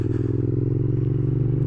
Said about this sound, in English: let's tiggle past slowly. There we are. Whoops, try and sort the gears out.